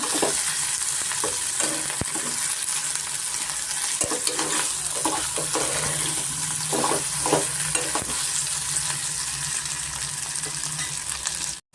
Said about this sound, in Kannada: ಸ್ವಲ್ಪ ಗೋಲ್ಡನ್ ಕಲರ್ ಬರೋವರೆಗೂ ಸ್ವಲ್ಪ ಪೊಟೆಟೊ ನಾವು ಫ್ರೈ ಮಾಡ್ಕೊಳ್ಳೋಣ